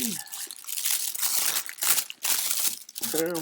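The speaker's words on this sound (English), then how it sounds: "Get this paper out of the way." Wrapping paper crinkles and rustles loudly up close as it is pulled away from a WW2-style bund leather watch strap, with dense crackling bursts and short pauses, and a brief voice at the end.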